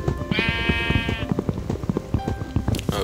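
A sheep in the Minecraft video game gives one clear, wavering bleat lasting about a second, followed by quieter clicking game sounds and a faint short cry near the end.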